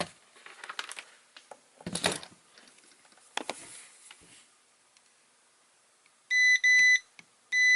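A multimeter continuity tester beeping while probing ground planes on a programmable mini power supply circuit board: a few short, high, clean beeps near the end, after soft clicks and handling noises.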